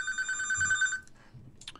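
A telephone rings once with a steady electronic trill lasting about a second, followed by a brief chirp, heard faintly indoors with no talking.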